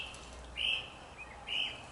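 Outdoors, birds sing, with two short clear chirps about a second apart over faint background noise.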